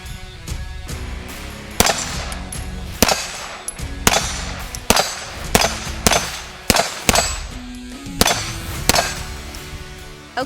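Sharp, loud pistol shots from a Canik TP9 SFX, fired one after another at an uneven pace with a dozen or so cracks, each ringing out briefly before the next.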